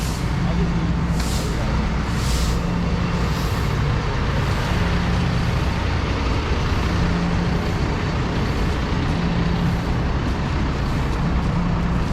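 A bus idles at a roadside stop in central Kuala Lumpur amid steady traffic roar, with repeated short air-brake hisses and low engine drone throughout.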